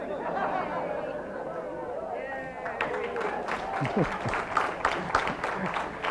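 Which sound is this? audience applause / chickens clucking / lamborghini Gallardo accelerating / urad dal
audience applause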